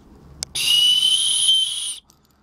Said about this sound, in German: Dann haben wir eine Signalpfeife.